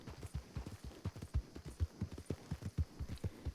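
Horse hooves clip-clopping in the video game RedM, a quick rhythmic run of soft thudding steps at moderate level with no voices.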